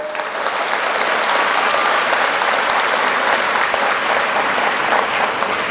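An audience claps loudly and steadily all the way through during a humorous Marathi speech, with a dense crowd of hands and no voice over it.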